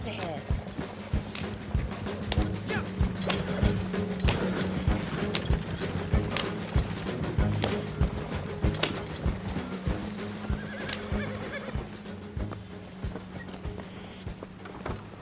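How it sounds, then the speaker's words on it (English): Horses pulling a wagon in the Red Dead Redemption 2 video game clip-clop steadily and neigh as the wagon comes to a stop, with wheel and harness rattle throughout and voices talking over the scene. "Stop the wagon just ahead."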